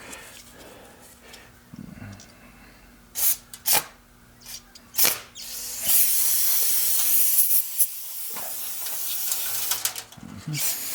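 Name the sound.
spraying aerosol brake cleaner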